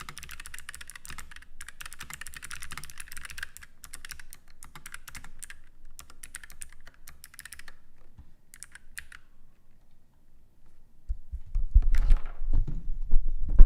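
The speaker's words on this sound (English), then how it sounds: "Just quickly typing out." Fast bursts of close keystrokes clatter on a computer keyboard for about nine seconds, with short pauses between runs. Then the typing stops and is replaced by low thumping handling noise.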